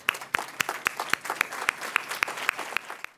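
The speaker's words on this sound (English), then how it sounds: "Robin, if you could please stand up, and a round of applause" An awards-ceremony audience gives a round of applause for an honoree standing in the crowd. Dense clapping runs throughout, punctuated by sharp, regular loud claps close by.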